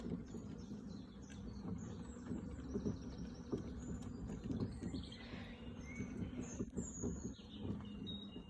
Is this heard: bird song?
yes